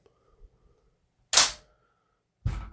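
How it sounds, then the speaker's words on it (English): The bolt of a Beretta ARX100 rifle is released and slams home with a sharp metallic snap, followed a second later by a duller clack of handling, in an otherwise quiet space. "I just let the bolt go home"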